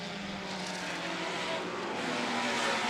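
Historic racing cars, a big BRM P25 followed by a much smaller Lotus, roar past with a steady, loud engine drone that swells slightly as they go by, with no talk.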